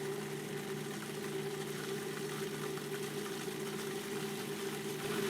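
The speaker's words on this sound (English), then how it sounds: "Great thing about Cuisinart is you can add oil while it's running." A Cuisinart food processor runs steadily while olive oil is drizzled in for green goddess dressing, giving a constant, fairly loud whirring motor hum with no pauses and no talk.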